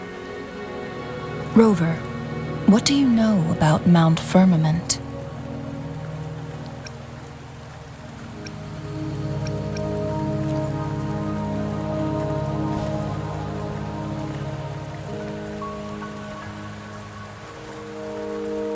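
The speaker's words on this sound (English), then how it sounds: "Don't worry, the rain won't last much longer." Steady rain falls on surfaces in the video game Wuthering Waves, a dense pattering wash that carries through the whole scene. Brief musical chimes and a voice speaking sit over the rain near the start.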